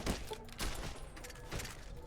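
Rifle gunfire in the video game Fallout: New Vegas: three sharp, loud shots at uneven intervals, heard through game audio with no speech.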